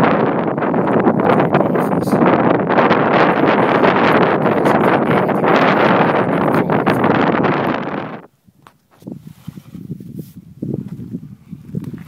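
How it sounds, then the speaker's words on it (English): Strong wind gusting across a microphone on a high mountain ridge trail, a loud steady roar for about eight seconds that suddenly cuts to quieter, intermittent rustling buffets. "Okay, back in the wind again."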